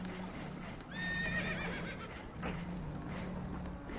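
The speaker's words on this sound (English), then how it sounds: "Horses are spooked, and we're taking on water." Horses in the Red Dead Redemption 2 video game whinny in a couple of shrill neighs over a steady rumble of hooves and water, near and fairly loud.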